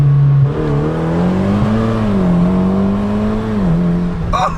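A Mitsubishi Evo MR being driven gives off a steady, loud mechanical drone and whine from its axle that rises and falls gently in pitch, with a brief sharper burst at the very end.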